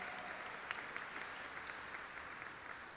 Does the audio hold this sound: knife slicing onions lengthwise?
no